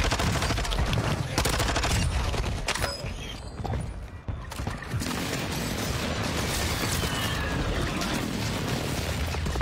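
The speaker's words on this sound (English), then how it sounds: "I can't even see the guy shooting at me." Dense, continuous gunfire from a shooter video game, with bursts and distant booms layered throughout and a brief lull midway before the shooting resumes.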